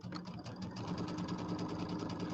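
A sewing machine stitching quilt pieces with a 1/4 inch seam hums steadily with a fast, even needle rhythm, close and continuous with no talk.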